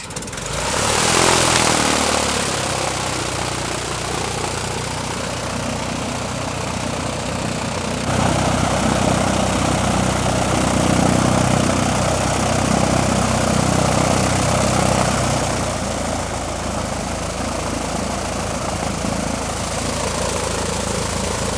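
A small propeller airplane engine drones loudly and steadily throughout, idling with a rough, buzzing hum that shifts slightly in pitch.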